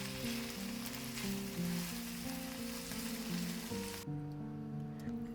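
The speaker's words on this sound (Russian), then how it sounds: "Все перемешиваем и готовим еще пару минуток на среднем огне." A potato, egg and red bell pepper mixture fries in a pan over medium heat, a steady close sizzle crackling continuously beneath soft background music that carries on after the frying hiss drops away near the end.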